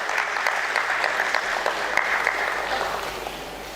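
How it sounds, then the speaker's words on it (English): Audience at a stock exchange listing ceremony applauding as guests come on stage: dense, continuous clapping from a crowd, fairly close and steady for the whole stretch before it eases slightly at the end. "Can we welcome them on stage with a round of applause"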